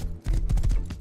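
Horse hooves clip-clop in the survival game Rust, a short run of several heavy thudding steps close by with no talking.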